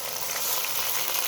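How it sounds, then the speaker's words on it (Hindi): Chopped tomatoes with browned onion frying in a pan for a mixed vegetable potato curry, a dense continuous sizzle heard close and alone. "और इसको भी थोड़ा सा भून लेते हैं।"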